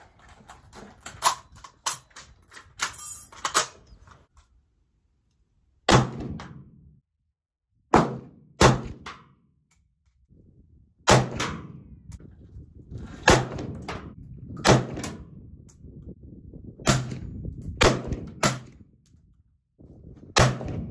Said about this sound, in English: let's go to the range, get these shots done